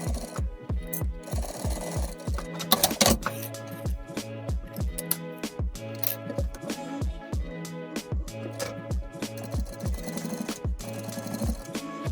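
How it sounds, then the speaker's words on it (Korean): Sewing machine stitching a 1 cm seam on a women's pajama set, a fast, even, loud mechanical needle rhythm running continuously with brief pauses and no talking. "이 부분 시접 1cm로 박음질 해줍니다"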